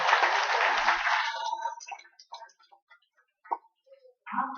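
Applause for children performing at a reading-teacher training camp begins as a dense burst of clapping, then thins out over a couple of seconds into scattered single claps, with a brief voice near the end.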